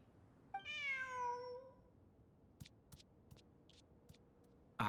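A cat in Genshin Impact lets out one long, drawn-out meow, clear and close, followed by a few faint game clicks and ticks against quiet background ambience.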